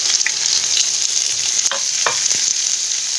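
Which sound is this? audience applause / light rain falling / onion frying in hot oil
onion frying in hot oil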